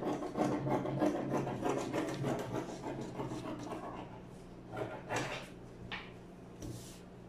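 Scissors cut through fabric for a shirt's short sleeves with a steady rasping, rubbing sound. It runs continuously at close range, followed by a few lighter snips and clicks near the end.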